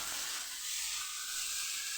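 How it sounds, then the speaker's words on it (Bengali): Potatoes fry in a pan, producing an even, soft hiss of sizzling oil that stays constant for about two seconds. "এই যে মা হচ্ছে আলু ভাজেতে"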